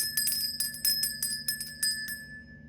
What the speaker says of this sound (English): let's go ahead and ring the bell and cleanse this space.